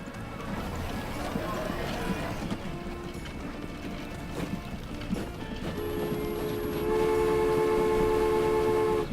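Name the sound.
train arriving in the video game Transport Fever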